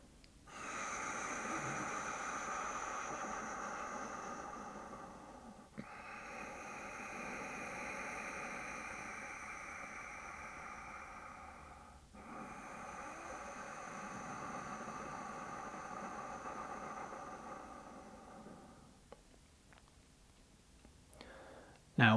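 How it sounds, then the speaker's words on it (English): Slow ujjayi yoga breathing, a soft ocean-like hiss made at the back of the throat with the mouth closed, comes in long steady breaths of about six seconds each, close and quiet with no talking. "begin to make a soft ocean sound or hissing sound at the back of the throat"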